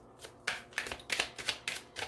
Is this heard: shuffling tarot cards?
yes